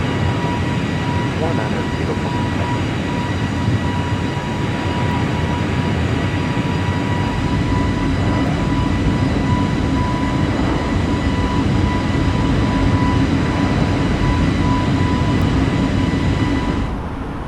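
Airliner climbing past 10,000 feet in Microsoft Flight Simulator, a loud sustained cockpit engine drone with steady tones that holds level throughout.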